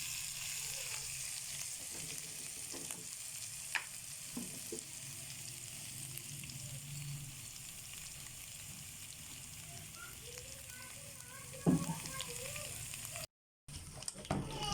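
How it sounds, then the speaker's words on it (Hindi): Ginger-garlic paste fries steadily in a pan for a chicken karahi, a soft, continuous crackle at low volume with a few brief clinks and no talking. "ये देखिए जी, अदरक लहसुन का पेस्ट फ्राई हो चुका, थोड़ा सा गोल्डन हो गया"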